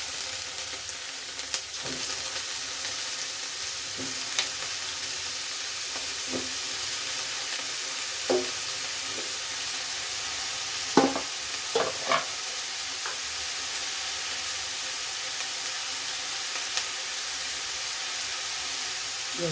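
Brinjal (eggplant) frying in a pan for chutney, a steady sizzling hiss throughout with occasional soft scraping and clicking as the pieces are stirred.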